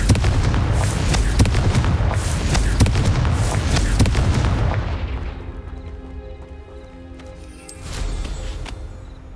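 A Confringo explosive spell in Hogwarts Legacy erupts in a loud series of booming blasts over several seconds, then fades into a faint tail with one more brief burst near the end.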